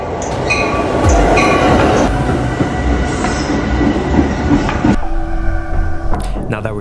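A passenger train heading into the city rumbles loudly from inside the carriage, with steady rolling noise, rail clatter and faint squeals before the roar drops and settles into a quieter hum.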